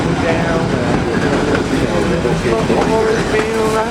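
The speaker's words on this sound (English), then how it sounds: "Just sitting on the train." Onboard a Georgetown Loop Railroad train, a loud, close rolling rumble with rhythmic clickety-clack of wheels and faint metallic squeals runs continuously.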